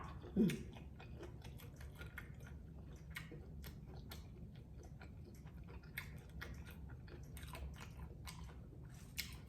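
Someone eats fresh raw squid up close, with soft, wet chewing and small crunchy bites repeating irregularly over a low, steady background hum, quiet and continuous.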